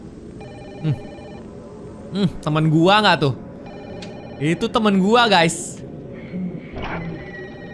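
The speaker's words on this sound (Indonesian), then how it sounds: "ada telepon lagi" A telephone rings repeatedly inside the horror video game Fatal Frame: Maiden of Black Water, a steady electronic bell tone that recurs throughout while someone talks loudly over it.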